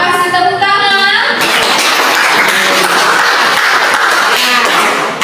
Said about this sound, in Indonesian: Ya, terima kasih tepuk tangan.